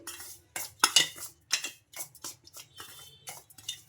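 Dry chilli powder, salt and sesame seeds mixed in a bowl with a spoon, giving a run of close, sharp clinks and scrapes in irregular bursts with no talking.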